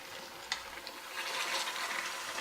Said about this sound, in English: I'll just stir for a while